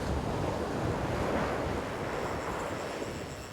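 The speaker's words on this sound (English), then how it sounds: "the wind is pumping the southwest" A strong southwest wind gusts across a Betty's Bay beach in the Western Cape, with waves and surf breaking nearby. The roar and rumble stay steady and fairly soft for a few seconds, with no talking.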